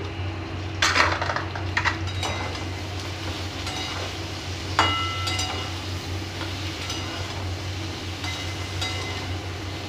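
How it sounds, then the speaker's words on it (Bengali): A utensil stirs spiced food with cumin powder and salt in a cooking pan, giving intermittent scrapes and metallic clatters over a steady low background hum. "এইবার ভালোভাবে আবার নাড়াচাড়া করে দেব"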